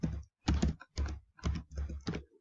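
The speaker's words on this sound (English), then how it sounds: "So I just type that in and press go." A formula being typed on a computer keyboard, short bursts of close, distinct key clicks in quick clusters separated by brief pauses, with no voice.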